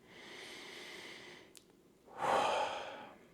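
A single deep breath, a slow drawn-in inhale followed by a fuller, louder exhale close to the listener, with a small click in between and quiet background otherwise.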